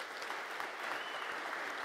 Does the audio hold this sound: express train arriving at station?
no